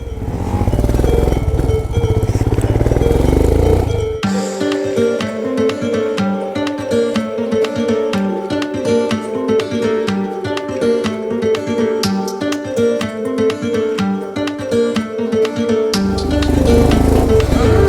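A motorcycle on a long-distance highway ride toward Sikkim gives a loud, steady engine and wind roar at the start and end, while music covers most of the middle.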